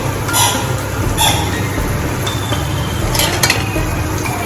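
Okra curry being stirred in a pan after garlic, salt and garam masala are added, giving soft scraping and occasional light clinks of a spoon against the pan over a faint sizzle, steady and close.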